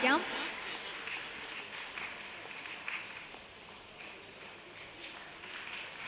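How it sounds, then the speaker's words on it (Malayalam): An audience claps in a steady patter of applause at a cultural festival gathering in Palakkad, moderately loud at first and gradually settling, with someone speaking over it. "നല്ലൊരു കൈയടിയോടുകൂടി അദ്ദേഹത്തെ നമുക്ക് അനുമോദിക്കാം"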